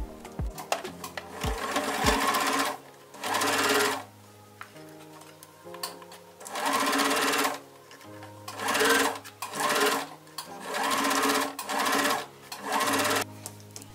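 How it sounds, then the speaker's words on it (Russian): A sewing machine runs a line of stitching along a fabric edge folded over twice, in several rapid whirring bursts separated by short pauses with light clicks between them. "Подворачиваем 2 раза край, скрепляем и прокладываем строчку."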